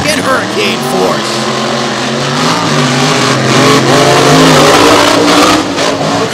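Monster trucks launch side by side in a three-wide drag race at Lake Erie Speedway, a loud, sustained engine roar rising in pitch with crowd noise and an announcer's voice over it.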